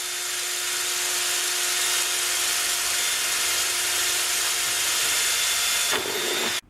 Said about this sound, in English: So let's drill where we've marked the hole punch.